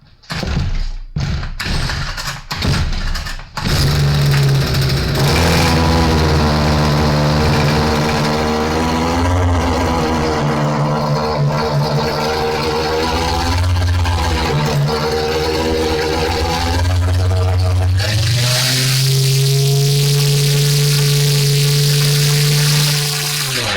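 A Stihl FS55R weed trimmer's small two-stroke engine is pulled over with several quick cord yanks, then catches and runs steadily, droning loud and close before settling to a lower, smoother idle.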